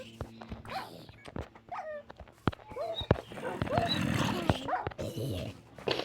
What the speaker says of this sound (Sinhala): අනේ මගේ බල්ලට ගැහුවා නේද?